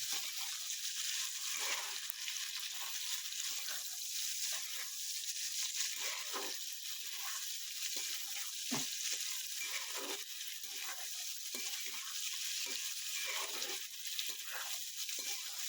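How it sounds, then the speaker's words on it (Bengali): Boiled rajma and chickpeas being stirred in a pan, a soft, steady frying hiss with irregular scraping and stirring sounds repeating throughout, close and alone with no talk. "এবার আমি রাজমা ছোলাটা দিয়ে দেবো। এটাকে একটু নাড়িয়ে নেবো"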